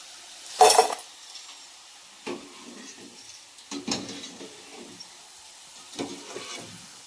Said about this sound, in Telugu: ఈ కలర్ వచ్చినంత వరకు ఫ్రై చేసుకోండి